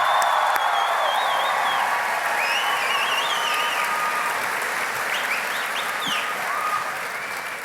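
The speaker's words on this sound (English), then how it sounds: "can we get another round of applause for Victoria?" Sustained applause from a rally crowd in Greeley at a 'Fighting Oligarchy' event, dense and steady throughout with scattered cheers and whistles rising above it, tapering slightly at the end.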